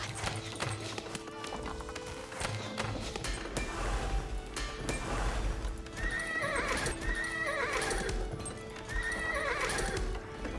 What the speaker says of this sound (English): Listen to these horses